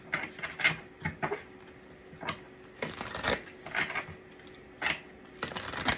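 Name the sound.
shuffling tarot cards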